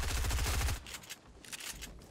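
Rapid Fortnite gunfire opens with a fast, dense burst of shots lasting under a second. Fainter, scattered reports and clatter follow at a distance.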